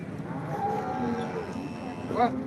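A cow moos at the Modnimb cattle market during livestock trading. A low, drawn-out bellow is heard nearby, and a shorter rising call follows near the end against steady market background noise.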